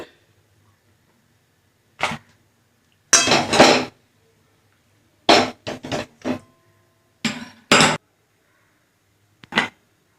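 A wok set down on a home stove before oil goes in, for cooking mankochu with raw mung dal: several separate metallic clanks and scrapes, close and fairly loud, with quiet gaps between them and no talking.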